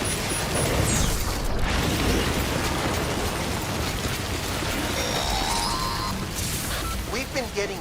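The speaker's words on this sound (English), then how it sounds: "We've been getting near constant timefall in this region for a while now." Timefall rain pouring in the video game Death Stranding, a dense continuous hiss of rainfall filling the scene at steady loudness, mixed with game sound effects, faint electronic tones and some talk.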